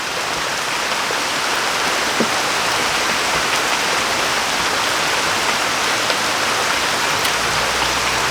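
Steady heavy rain of the rainy season pours down continuously, a dense hiss of drops hitting surfaces with no pauses.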